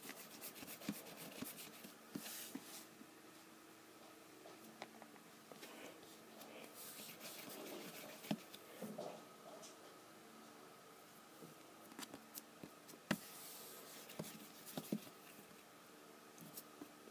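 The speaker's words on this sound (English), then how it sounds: "Here is my butter slime." Butter slime being squished and worked by hand in a quiet ASMR setting, producing soft, sticky rubbing and faint crackly patters that come and go irregularly at a low, close level.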